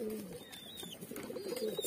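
Baby pigeons being hand fed, with soft bird calls, coos and faint chirps close by over a quiet hiss throughout.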